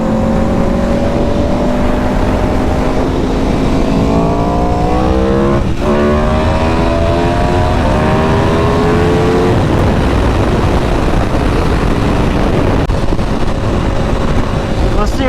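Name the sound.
Aprilia RSV4 motorcycle racing Chevrolet Camaro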